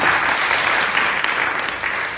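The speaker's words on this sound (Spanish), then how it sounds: "Y le damos un aplauso a los visitas, ¿sí?" A church congregation applauds to welcome visitors during a service, with a full, even burst of clapping from many people that holds steady and tapers slightly at the end.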